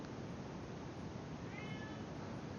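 A cat meows once, briefly and faintly, against a steady wash of background noise.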